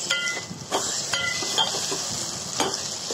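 Chicken keema with ginger garlic paste frying over high heat, a constant sizzle broken by repeated scraping clanks of a spoon stirring against the pan.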